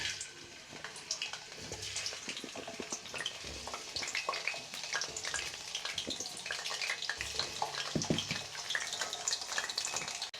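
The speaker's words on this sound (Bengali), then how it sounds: "প্রথমে আমি আলুগুলো ভেজে নেব।" Potatoes frying in oil for a chicken and potato curry, a crackling, bubbling sizzle scattered with sharp pops and occasional clinks, steady and fairly close with no talking.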